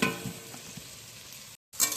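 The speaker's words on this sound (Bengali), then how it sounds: "তো এবার এর মধ্যে দিয়ে দেবো মটরশুঁটি" Green peas tossed into half-fried vegetables in a pan give a bright, steady sizzle with light stirring clinks, briefly cutting out before the frying hiss returns.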